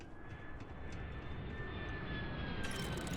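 A spaceship in Starfield sets down close by, a steady roaring engine drone with a thin whining tone that holds level throughout, loud and alone with no voices.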